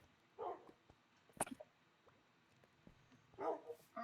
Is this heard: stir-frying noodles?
no